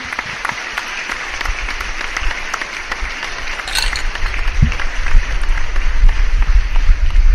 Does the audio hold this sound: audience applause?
yes